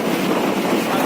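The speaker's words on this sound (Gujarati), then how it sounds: "પવન આટલો આવે છે" Steady, loud wind rushes against the microphone on a moving bus, a broad continuous roar with no breaks.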